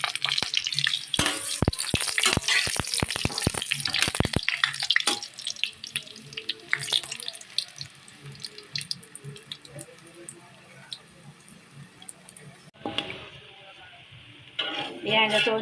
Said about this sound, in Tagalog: mainit na po ang mantika. Piprituhin po natin ang saging.